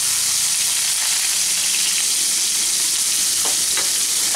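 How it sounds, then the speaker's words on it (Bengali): Chopped onion fries in oil with garlic and green chillies for potato fried rice, a loud, dense, steady sizzle close by, with a couple of brief stirring scrapes near the end and no talking. "পেঁয়াজটাকে হালকা বাদামি করে ভেজে নিচ্ছি"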